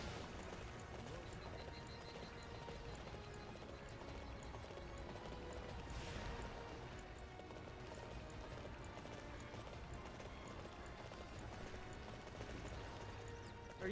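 Horse hooves clip-clop at a steady trot in the video game Dynasty Warriors 9, fairly quiet and mixed with a dense layer of battle and game noise, with no talking.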